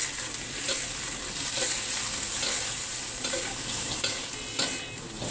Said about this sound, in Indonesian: Setelah harum kita masukkan udang,